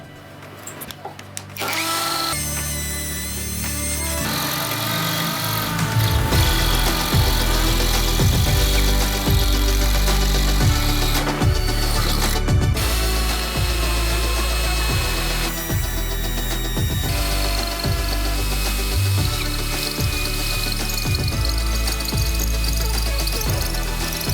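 A brushless ProCraft cordless drill in hammer mode drills in repeated bursts, a loud close whine layered with a rapid hammering rattle, stopping and restarting several times.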